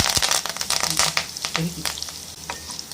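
Mustard seeds pop and crackle in sizzling hot sesame oil, sharp irregular snaps over a steady frying hiss, close by.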